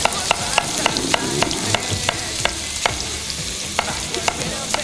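Garlic and onion sizzle and fry in a pan for a pork and mushroom stew, a steady crackling hiss broken by regular scraping stirs, close and fairly loud, with no voices.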